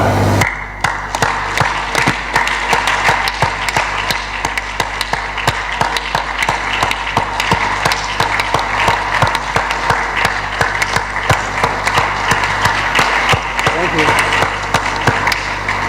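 Audience in a chamber standing and clapping for His Excellency, dense continuous applause filling the room, loud and sustained throughout.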